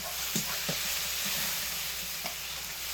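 Tomatoes melting down in hot oil with salt and turmeric powder for a fish, eggplant and potato curry, giving a steady close sizzle with a few soft stirring scrapes and no talk.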